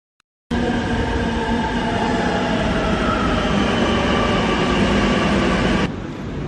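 A Kochi Metro train rumbles loudly and steadily after a sudden start, with a constant hum and rolling wheel noise, easing slightly at the end.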